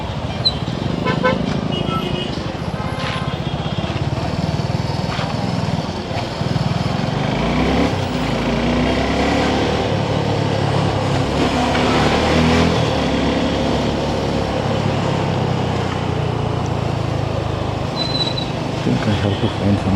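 Dense road traffic heard from inside a car on a Sunday evening, a steady rumble of engines with repeated horn toots sounding near and far throughout.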